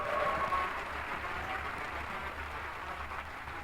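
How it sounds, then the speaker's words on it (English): Audience applause in a large hall at OpenAI DevDay 2025, a steady broad wash of many hands clapping at moderate distance, fairly quiet and continuous, with a low rhythmic hum underneath. "Let's give them a round of applause."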